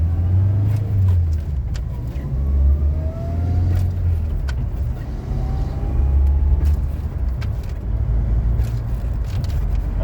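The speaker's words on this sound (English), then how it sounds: "here I'm gonna try to shift all the gears" A 1998 Toyota Tacoma drives through heavy traffic, its engine a steady loud low rumble that rises and drops as the gears are shifted, with road noise throughout and no talk.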